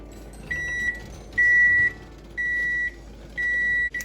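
A kitchen timer beeps during jelly making, four evenly spaced long electronic tones, each about half a second, sounding loud and close over a low background hum.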